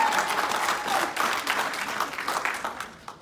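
An award ceremony audience applauds: dense, loud clapping that swells and flickers with uneven bursts, then tapers off toward the end, with no voices on top.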